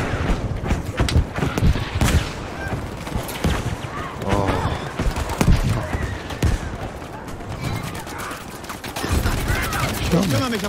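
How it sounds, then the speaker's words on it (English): Artillery bombardment in a video game: repeated sharp blasts and gunfire bursts in irregular volleys, loud and close, with excited voices talking over the barrage. "Bombardment. Oh, shit, bring a bombardment into this one."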